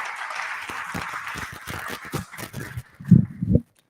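Audience applause after a startup pitch video at a tech pitch event, a few seconds of scattered clapping that thins out, ending with several louder claps before stopping.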